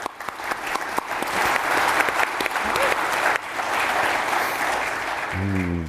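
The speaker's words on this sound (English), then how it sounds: "Let's clap it up for them." An audience applauds panelists at a professional event on project leadership, a full, even patter of many hands that carries throughout, with a voice starting up at the close.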